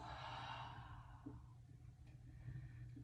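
A soft, slow exhale during a yoga breathing exercise, quiet and close, tapering away over a second or so and leaving faint room hush.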